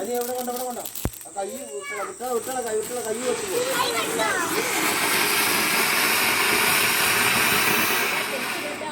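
A flower pot firework burns at a Vishu celebration, its hiss building into a loud, steady rushing spray while children and adults chatter and call out over it.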